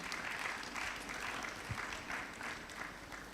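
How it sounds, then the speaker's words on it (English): Audience applause at a church-run conference, a continuous wash of many hands clapping at moderate volume, fairly even throughout with no clear speech over it. "Please, a round of applause for yourselves."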